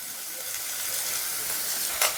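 Onions for a prawn and ridge gourd curry fry in hot oil with a steady, soft crackling sizzle, close by, ending in a brief sharper spatter.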